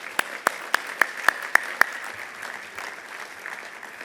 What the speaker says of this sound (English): So a round of applause for Senator Carper, Senator Coons, and Congresswoman Blunt Rochester